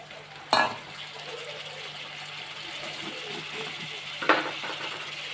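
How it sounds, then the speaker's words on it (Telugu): Tomato pieces frying in a pan with a steady, moderate sizzle, broken by two short louder bursts as the pieces go in or are stirred, with no one speaking. "అవన్నీ కాస్త ఫ్రై అయ్యాక టమాటా ముక్కలు కూడా వేసేస్తున్నాను."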